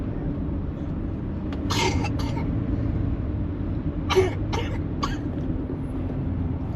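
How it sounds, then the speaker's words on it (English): Two short bursts of coughing, a couple of quick coughs each, heard over a low steady background rumble. "You coughing?"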